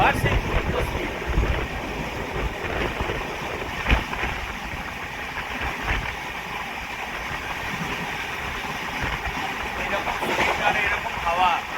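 Wind rushes steadily past the Puri–Sealdah Duronto Express running near 110 km/h toward Bhubaneswar, layered over a deep rolling rumble of the wheels and occasional louder clanks, continuous and close for the whole stretch.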